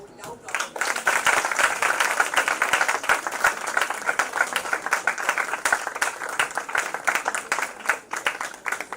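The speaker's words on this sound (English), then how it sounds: "they all deserve a really loud round of applause" A crowd at a school science event breaks into sustained applause, steady dense clapping filling the whole stretch with voices mixed in underneath.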